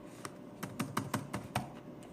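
Quick bursts of typing on a computer keyboard, about eight close, crisp key clacks in an uneven rhythm with no voices.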